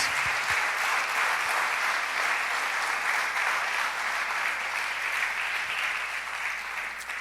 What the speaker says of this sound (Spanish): Un aplauso para el Padre, mis hermanos.